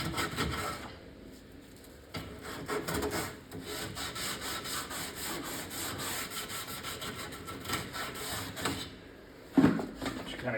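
A wooden Popeye arcade cabinet is hand sanded with sandpaper around its edges to remove dirt, giving a steady scratchy rubbing that carries on throughout with brief pauses and a louder scrape near the end.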